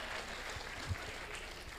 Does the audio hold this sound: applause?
yes